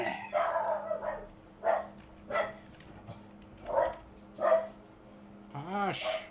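A pet dog barks in a string of sharp, fairly close yaps spaced about a second apart, ending in a rising whine, with a faint steady hum underneath.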